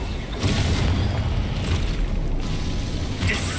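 Confringo blasting spell explosions from the Hogwarts Legacy video game, a dense run of loud booming blasts and bursts filling the whole span with continuous rumbling impacts.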